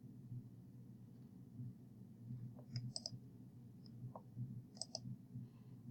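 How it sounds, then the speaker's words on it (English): A few sharp, quiet computer mouse clicks on an online course page, spaced apart and heard alone over a low, steady room hum. "I'm going to go ahead and click on discussion 1."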